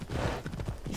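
Horse hooves clip-clopping at a steady pace in the Assassin's Creed Odyssey video game, close and fairly loud with a rhythmic beat and no talk over it.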